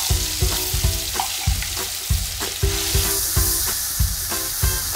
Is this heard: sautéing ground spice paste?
yes